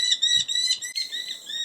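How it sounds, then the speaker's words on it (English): A single agitated bird calls close by, repeating a shrill, rapid chirping trill with short breaks between bursts. The call is fairly loud against a quiet outdoor background, and no one speaks over it. "That is one unhappy bird."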